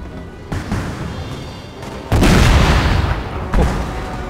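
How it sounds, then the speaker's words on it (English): Cannon blast and explosions in Napoleon: Total War battle, dull booms with a loud burst at the midpoint over continuous battlefield rumble, no talking. "But one of my cannons exploded."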